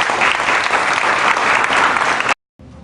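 An audience at a Broward Democrats political gathering breaks into loud, dense applause that holds steady for about two seconds, then cuts off abruptly into silence before faint crowd noise returns.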